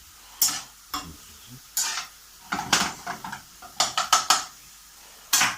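Bacon frying in a pan, heard as a scrappy series of short scraping and clattering bursts from utensils against the pan, with a soft sizzle beneath; close, moderately loud, and no one talking.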